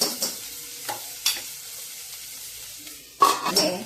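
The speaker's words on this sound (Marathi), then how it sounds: "हरभरे पण चांगले परतून घेतले" Chickpeas and bharangi wild greens stir-fried in a pan, a soft steady sizzle broken by several sharp scraping and stirring strokes, the loudest burst near the end.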